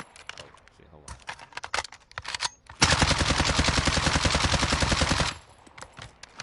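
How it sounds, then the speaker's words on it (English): Sustained automatic gunfire from a gun in the Call of Duty video game, a loud continuous burst lasting about two and a half seconds, preceded by scattered clicks and a brief voice. "So I'm gonna kind of shoot down as I'm shooting."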